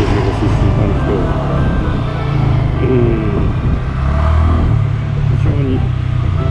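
A Honda Grom MSX125, a 125cc motorcycle of roughly 9 horsepower, accelerates with a steady, loud engine drone that rises and holds close by, while someone talks over it throughout.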